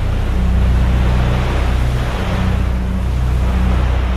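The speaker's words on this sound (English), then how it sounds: "This is a lahar, one of the most dangerous hazards that volcanoes produce." A churning volcanic lahar, an avalanche of mud, rocks and water, makes a loud, continuous roaring rush with deep rumble, steady and unbroken throughout, with no voices.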